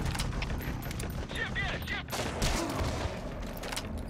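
Steady, dense gunfire from the Metal Gear Solid V: The Phantom Pain video game crackles continuously at moderate loudness, with a player's voice briefly heard over the shooting.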